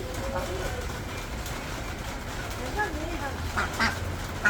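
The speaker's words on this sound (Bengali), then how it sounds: "কি সুন্দর দেখো মা হাঁসটা খাচ্ছে" Ducks quack in short bursts near the end while eating at a monastery, over a steady low rumble and nearby voices talking.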